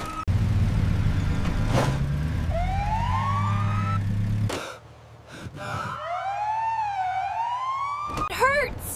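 An ambulance siren in a Lego city toy scene wails loud and near, rising in repeated sweeping tones, with voices calling out beneath it and a brief pause mid-way.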